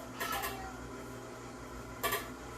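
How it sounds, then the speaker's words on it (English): Pinto beans going into a cooking pot for a vegetarian three-bean chili give two short clattering bursts against the metal, one near the start and one near the end, over a low kitchen hum. "all you have to do is dump all of your ingredients in the pot"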